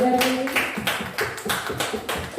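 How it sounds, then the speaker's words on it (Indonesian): Applause for a speaker at a school dissemination event: a handful of sharp, uneven hand claps close to the microphone, rhythmic and fairly loud, following a trailing tone at the start. "Boleh kita beri tepuk tangan yang meriah dulu pada Ibu Ermini"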